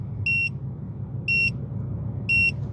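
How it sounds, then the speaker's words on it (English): Three evenly spaced, bright electronic beeps from an MX30 car heads-up display speed alarm, each about a quarter second long, sounding clearly over a steady low hum of the car's interior. "the HUD will immediately trigger a loud audible alarm,"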